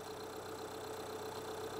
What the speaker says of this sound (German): das heißt, der Motor läuft jetzt.